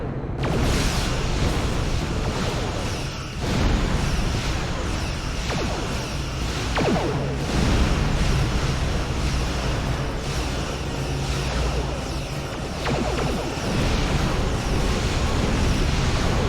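Starship weapons fire and explosions against a Borg sphere in Star Trek Online, a dense rumbling roar with booming blasts and sweeping energy-shot streaks, continuous and loud with no talk.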